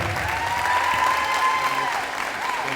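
Audience applause at a high school letter-of-intent signing event, steady clapping filling the room for about three seconds without a break.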